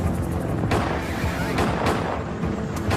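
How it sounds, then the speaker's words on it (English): Rapid gunfire crackles and booms in a dense, continuous barrage, loud and chaotic, with no clear pauses, as ATF agents approach the Branch Davidian compound near Waco. "As the first agents approach, gunfire erupts."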